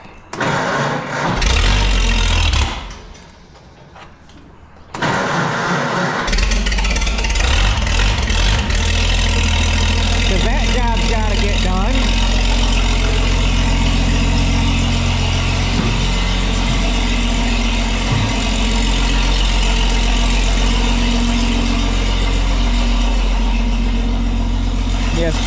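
Tractor engine cranking and firing up before mowing a hayfield with a three-point brush hog, a loud start that drops briefly and then settles into a steady, heavy diesel idle with a constant low rumble and slight rises in revs.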